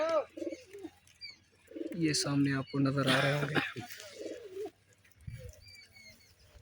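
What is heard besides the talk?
pigeons cooing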